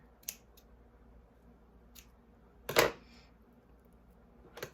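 Scissors snipping a craft piece for a Dollar Tree Christmas cutting board, one sharp close cut standing out amid a few lighter clicks and snips in a quiet room.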